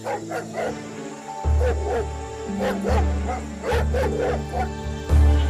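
Wild dogs barking in a sound effect for a Panchatantra folk tale, with repeated loud yips and barks over a steady musical bed and no speech.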